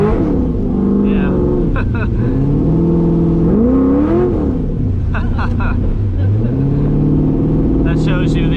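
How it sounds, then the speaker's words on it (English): A cammed LS-powered Z28 Camaro on a wet road, its engine note climbing and falling through several revving pulls while the tires may be spinning. People talk over the engine throughout. "I bet it spins the tires in this wet road."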